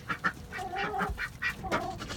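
Backyard ducks quack in a series of short, nasal calls at close range, with a few overlapping voices and muddy yard noise underneath.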